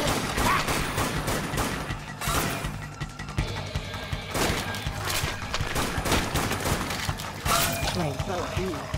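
Rapid rifle fire in the zombie shooter Dead Nation, dense bursts of loud crackling shots with impacts and crashes throughout, a voice speaking over the din.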